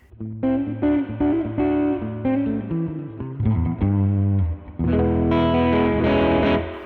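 Electric guitar chords and notes drenched in reverb, played through a Death By Audio Disturbance pedal, with a slightly driven, effected tone, played loudly and continuously with no voices.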